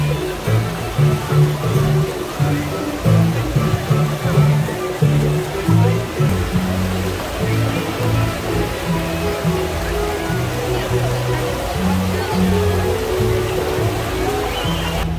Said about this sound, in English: This is the busiest fountain I think I've ever seen on a Disney property.